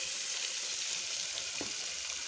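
Onion frying with garlic and a little salt in a pan for green banana farofa, an even, close sizzle with one small clink partway through, no voices.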